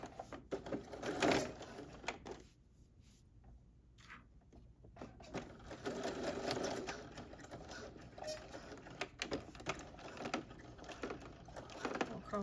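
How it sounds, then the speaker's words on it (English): A sewing machine stitches a half-inch seam on sweatsuit fabric, running in short bursts with pauses as it backstitches back and forth, close and moderately loud. "sew these two together using 1/2 inch seam allowance, and I'm going to go back and forth a couple times"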